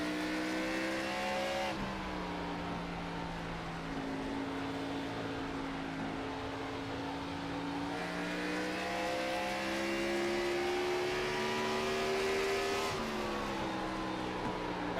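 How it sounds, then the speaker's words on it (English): A race car drones steadily on the Richmond oval in an NRE Cup Series race, engine pitch climbing gradually through shifts with faint tire squeal, continuous and close as if heard from onboard. "You can already see the car sliding and struggling for grip right now."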